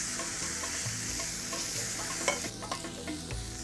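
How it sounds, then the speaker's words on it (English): Spice paste with lemongrass sizzles and fries in a pan while being stirred, with close scraping strokes over a steady hiss. "So what does frying do? Well, it releases the aromatic oils in the spices and lemongrass."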